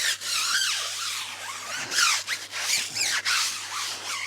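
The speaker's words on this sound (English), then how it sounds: "And I just use a heavier brush to scrape the tires." Heavy brush scrubbed against car tires during a wheel wash, giving a steady rough rubbing and scraping with short squeaky strokes, close and continuous with no talking.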